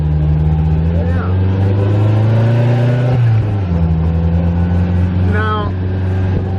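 A Slingshot three-wheeled roadster engine drones steadily while driving, with a low hum that dips briefly midway as if shifting and then picks back up, under people talking close by.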